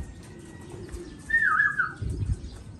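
Pigeons return home with a brief flurry of flapping wings and a short call, close by over faint outdoor background.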